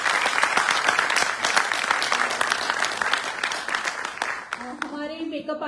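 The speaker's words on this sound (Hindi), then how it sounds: "तो एक बार जोरदार तालियों से फिर से स्वागत करें सभी का" An audience applauds for a stage play's cast and crew, with dense, sustained clapping that fades near the end as a voice begins.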